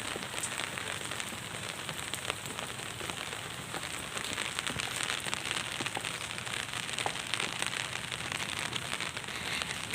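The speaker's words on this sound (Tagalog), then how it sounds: "Maulan." Rain falls steadily on a gloomy, overcast street in Manila during a typhoon, a constant dense hiss with fine crackling patter throughout and no voices.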